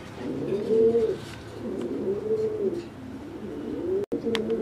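Fancy homa and giribaz pigeons coo in a repeated rolling rhythm, three drawn-out phrases close by, with a brief click near the end.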